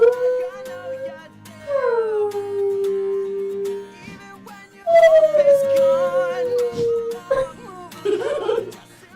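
A voice imitates a whale call with long, sliding, moaning tones, falling wails held for seconds, then a rising and dipping cry, loud and close, ending in a brief chuckle.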